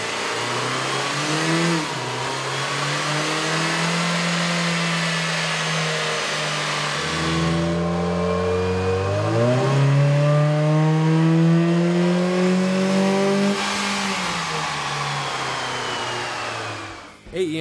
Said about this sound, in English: Here's a comparison of the Fiesta sound on the dyno with a stock OEM system versus AEM's